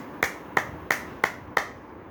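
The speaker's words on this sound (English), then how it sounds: "Fourth one is clapping for 1 minute." Five crisp, evenly paced hand claps, close and alone in a quiet room, as part of a one-minute clapping exercise for health.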